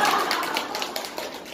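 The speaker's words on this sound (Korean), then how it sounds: "박수 치면서 딱 해요" An audience clapping along in a lecture setting: a dense, steady patter of many hands clapping, fairly loud throughout.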